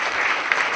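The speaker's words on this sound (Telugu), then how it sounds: "గట్టిగా క్లాప్స్" Loud, dense applause from an audience at a large business leaders' meeting in Guntur, a steady burst of clapping filling the short moment without talk.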